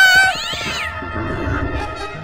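An animated cartoon cat gives a drawn-out meow near the start, close and fairly loud, followed by a low steady background hum.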